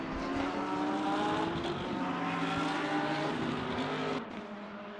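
Race cars, a BMW and a Porsche, lapping Le Mans in a racing game, with a loud sustained engine whine holding steady at high revs before dropping off sharply near the end.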